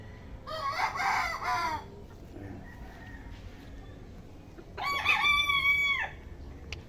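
Roosters and chickens at a Filipino rooster farm: two loud, close crows about four seconds apart, with soft clucking and bird calls in the background.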